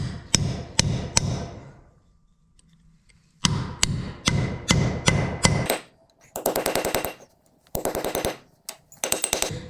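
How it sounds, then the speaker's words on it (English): Old front wheel bearing on a Kawasaki KRX side-by-side being knocked out with a hammer: bursts of sharp, ringing metal blows in quick runs, loud and close, separated by short pauses, with no talking. "we're just going to go ahead and destroy this bearing. Get it out."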